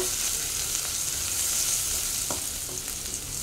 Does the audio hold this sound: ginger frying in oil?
yes